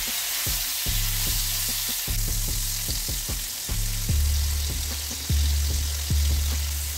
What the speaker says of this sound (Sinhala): මම දැන් භාජනයක් ලිපේ තියලා එකට පොල් තෙල් ටිකක් දාගත්තා ඒක දැන් රත් වෙලා තියෙන්නේ මම දැන් මුලින්ම කරවල කෑලි ටික එකතු